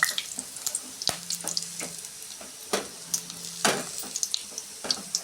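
Dried red chillies and bay leaves hit hot oil in a pan, giving a light crackling sizzle with scattered sharp pops and a few spoon or utensil clinks, close and moderately loud, with no talking.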